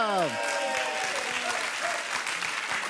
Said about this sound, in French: On vous applaudit et on accueille Alain et Véronique.